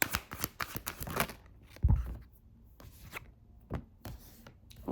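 Tarot cards being shuffled and drawn, with a rapid flurry of riffling and slapping followed by scattered softer card snaps and handling noises up close.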